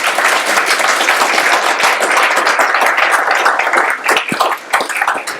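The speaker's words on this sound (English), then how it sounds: "Can I please have a massive round of applause for James?" Audience applause after a speaker's introduction at a talk, loud and steady continuous clapping from a large crowd, thinning slightly toward the end.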